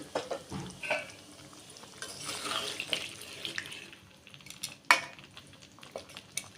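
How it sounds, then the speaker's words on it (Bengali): Hot water poured into a pan of chicken curry, a close, uneven splashing pour with light clinks, rising in the middle and ending with a sharp knock. "পরিমাণ মতো গরম পানি দিয়ে দিলাম।"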